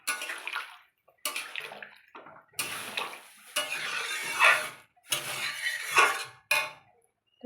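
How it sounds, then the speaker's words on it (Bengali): Warm water is poured into a cooking pot of curry in several bursts of splashing and gurgling, separated by short pauses, with light clinks of metal cookware between them. "জল, হালকা গরম জল করে নিয়েছিলাম আগে, দিয়ে দিলাম সেটা।"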